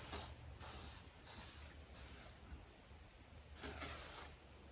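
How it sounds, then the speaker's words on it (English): WD-40 sprayed onto an ATV tire and rim during a tire install, five short hissing bursts of spray with brief gaps, close and clear. "I just want to hit it with some WD-40 so that everything can slide nice"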